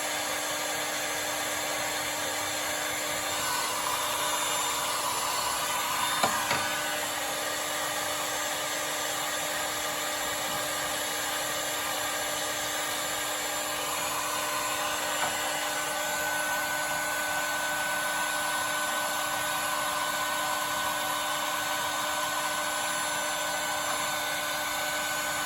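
A heat gun blows hot air steadily while shrinking heat-shrink tubing on horn relay wiring for a 1973 Mustang, a constant close whine and hiss with a brief clunk partway through.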